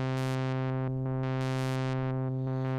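An Arturia Pigments synth preset driven by an intense step sequence: a steady, sustained buzzy tone with bright filter bursts pulsing on and off in a fast, uneven rhythm, alone and fairly quiet.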